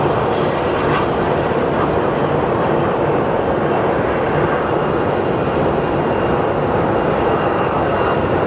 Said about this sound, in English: The plane we are looking at is American 832. It's a 737 Max going to JFK.